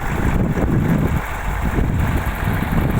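A steady, rumbling T-150 wheeled tractor engine runs close by, a low continuous drone with slight fluctuations and no talking.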